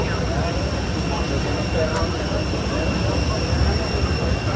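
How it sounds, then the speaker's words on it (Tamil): A JetBlue airplane arriving on an airport runway gives a steady, loud, broadband jet roar that holds evenly throughout without a break. "இந்த ரன்வேயில் ஒரு பிளேன் ஒன்று வருது, ஜெட் ப்ளூ."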